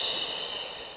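A deep exhale during a pregnancy breathing exercise, one long, close, breathy outflow of air that fades over about a second, heard alone.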